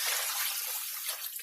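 Four cups of water are poured into a pot of seasoned rice, producing a short, soft splashing stream that runs quietly and evenly for about a second and a half.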